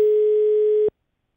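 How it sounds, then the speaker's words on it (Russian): A single steady telephone line tone, loud and close, holds for just under a second and then cuts off cleanly into silence while a call to a live studio phone-in is being connected. "Мы дозваниваемся."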